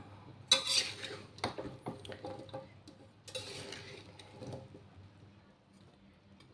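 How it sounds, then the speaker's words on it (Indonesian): Bitter melon and mixed vegetables being stir-fried in a pan, with a utensil clattering and scraping against the metal in scattered bursts, fairly quiet and close, no talking. "Sayurannya sudah masuk, parenya sudah masuk ya, kita aduk, kita oseng-oseng ya."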